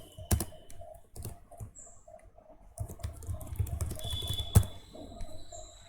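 Code being typed on a computer keyboard in quick, uneven bursts of clicking keystrokes, close and fairly quiet, with a short pause partway through and no talking.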